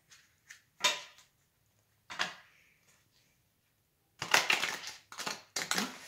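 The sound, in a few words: shuffling a deck of tarot cards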